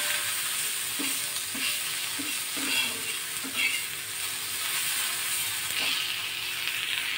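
Sweet corn kernels for a Chinese-style prawn seekh kebab are stirred on a dry tawa with no oil. A close, continuous soft sizzle runs throughout, with a spatula scraping and tapping the pan in short strokes.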